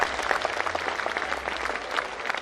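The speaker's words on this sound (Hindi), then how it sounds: "हमारे बीच में ताली बजा के स्वागत करते हैं।" A crowd at a farmers' rally in Hisar claps to welcome a speaker. The applause is dense and steady throughout this short burst, with no clear talking.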